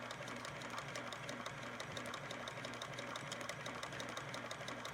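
A Kenmore 158.19811 cam-driven monogramming sewing machine stitching at speed, a quiet, steady whirring hum with rapid rhythmic clicking of the needle running continuously.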